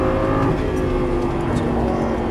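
A Lamborghini Gallardo LP550 driving on a race track, its engine a loud, steady, close drone held under light throttle, with no talking.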